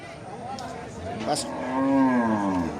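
A cow lets out a long, low moo in the second half, preceded by a shorter lowing sound, with faint background voices.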